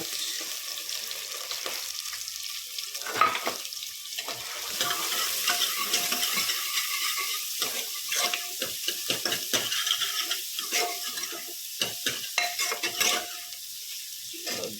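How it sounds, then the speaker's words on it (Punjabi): Cumin seeds and onion sizzle steadily in hot oil in a pan, with repeated scraping strokes and clinks of a spoon against the cookware as the mixture is stirred, close and continuous throughout with no talking. "ਤੇਲ ਹੋ ਗਿਆ ਗਰਮ ਐਡ ਕਰਾਂਗੇ ਜੀਰਾ ਤੇ ਪਾਵਾਂਗੇ ਪਿਆਜ਼"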